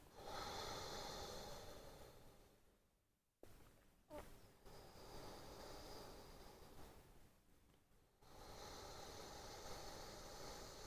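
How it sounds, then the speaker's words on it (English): Slow, deep breathing as if through a straw during a throat chakra yoga practice: long, close, airy inhales and exhales separated by brief near-silent pauses, with no speech. "You can achieve this breath by imagining you breathing through a straw."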